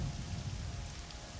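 Steady rain falls in the Morrowind video game, a dense continuous hiss of drops on surfaces with a low rumbling undertone, loud and unbroken throughout with no voices.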